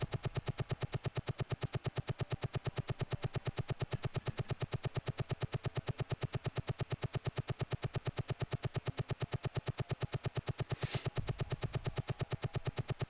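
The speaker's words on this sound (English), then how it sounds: "when we find them, we're just going to be lighting them up with the cannon." Helicopter cannon firing in the 1991 combat helicopter sim Gunship 2000: a long, rapid, perfectly regular stream of synthetic shots, loud and mechanical, with a brief heavier burst near the end.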